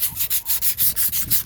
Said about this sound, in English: So I got some emery cloth and I'm going to sand this off.